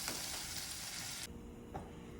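Onions sauté in a pan, loud dense sizzling with stirring scrapes that drops to a softer steady fry partway through, close and without talk.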